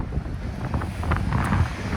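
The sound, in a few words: wind blowing into the microphone outdoors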